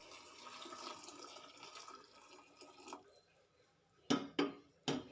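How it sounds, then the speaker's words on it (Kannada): Water poured into rice in a home kitchen for cooking, a soft splashing pour that fades, followed by three sharp, close splashes or drips near the end; quiet overall. "ಒಂದು ಗ್ಲಾಸ್ ಅಕ್ಕಿಗೆ ಒಂದೂವರೆ ಗ್ಲಾಸಷ್ಟು ನೀರು ನಾನು ಅಂದಾಜಿನಲ್ಲಿ ಹಾಕ್ತೀನಿ"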